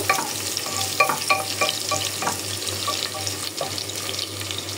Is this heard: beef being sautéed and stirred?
yes